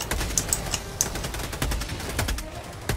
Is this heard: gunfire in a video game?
yes